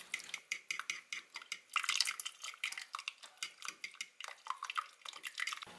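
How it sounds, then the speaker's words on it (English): Stirring a cornstarch-thickened sauce in a pot, with rapid, rhythmic wet scraping and clinking strokes repeating steadily at close range, heard alone without talk. "gradually pour it into your pot, stirring it, and that'll prevent any clumps"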